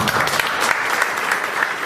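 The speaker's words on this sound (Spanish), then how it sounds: "Un aplauso a Raúl." A short burst of steady applause comes from the audience at a labor reform training seminar. The claps are dense and even throughout.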